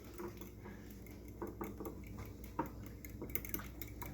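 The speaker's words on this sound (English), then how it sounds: "you whisk the eggs. With the fork." A four-tined fork whisks eggs in a bowl, giving a steady run of quick light clinks and taps against the dish, close and fairly quiet with no talking.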